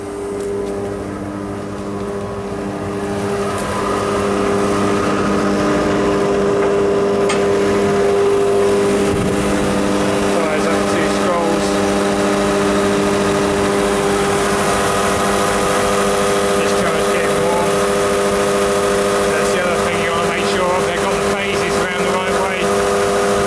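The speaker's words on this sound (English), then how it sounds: "as soon as you turn it on, brings the agitator motor on" Agitator motor on a machine wired to permanent live, running steadily after switch-on with a loud, constant tonal hum and drone that holds unchanged the whole time, no voices over it.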